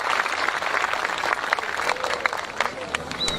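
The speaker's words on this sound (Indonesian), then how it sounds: "Tepuk tangan untuk Semarang." Applause from the crowd at a religious gathering in Semarang, dense clapping with some crowd voices mixed in.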